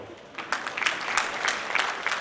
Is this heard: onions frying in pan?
no